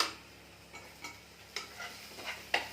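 Onions and ginger paste frying in oil in a pan, with faint sizzling under several separate light stirring scrapes and taps of a spoon against the vessel.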